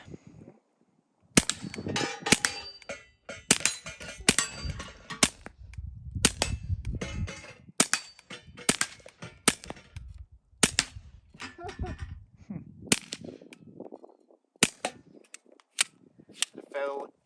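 Sig P322 pistol fired at a range, a string of sharp close gunshots at an uneven pace, some in quick pairs, with people talking quietly between shots.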